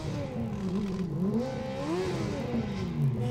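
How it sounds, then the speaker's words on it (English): Formula Student race car engine at an autocross event, restarting after a stall following a spin: a steady, close engine drone with shifting revs rising and falling throughout. "car number 60 have managed to start their engine"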